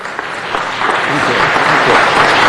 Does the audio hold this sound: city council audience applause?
yes